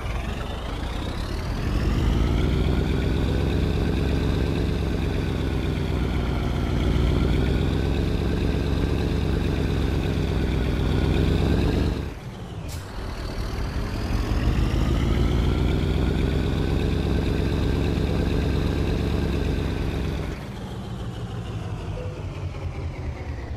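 Truck engine idling in Euro Truck Simulator 2 on a haul from a reservoir tank to Krafla, Iceland: a steady, loud, droning rumble that holds for the whole stretch with one brief dip midway and no talk.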